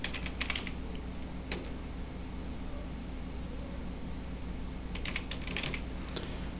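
Someone types a name on a computer keyboard, tapping out quick bursts of keystrokes at the start and end with a single stroke in between, over a steady low background hum.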